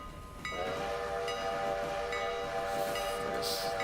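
A locomotive whistle in the Railroader train simulator game sounds one long, steady, loud blast that holds for over three seconds over a rumbling rail background.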